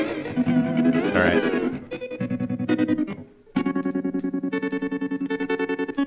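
OBNE Visitor modulation pedal set for noisescape sound design: distorted, chorus-wobbled tones that dip, break off briefly, then return as a loud, rapidly pulsing stutter.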